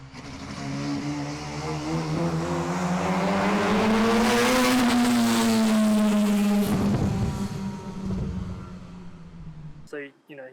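A loud, tuned 13B peripheral-port rotary engine in an AE86 revs steadily up to a peak and back down, rough and droning, throwing flames and cutting off abruptly with crackles at the end.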